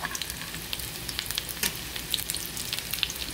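Dungeness crab cakes sizzle in a frying pan, a close, steady crackling fry with scattered sharp pops and a brief scrape near the middle, no voices.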